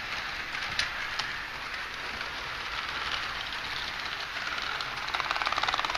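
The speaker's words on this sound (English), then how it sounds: "I take it I'm riding the train." A steady rumbling rush of a moving train heard from the second car behind the locomotive, continuous and fairly loud, with faint clicks and a quick rhythmic clatter building near the end.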